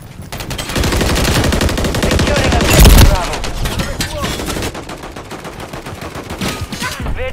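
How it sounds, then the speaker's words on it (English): Dense automatic gunfire in Modern Warfare 3, loud and close, with fast rattling bursts and a sharp blast midway, continuing almost without pause while brief voice callouts sound over it. "Taking effective fire!"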